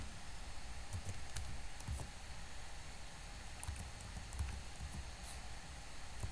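Quiet, sparse keystrokes on a computer keyboard tap irregularly against a steady low background hiss, with a few slightly firmer clicks scattered through.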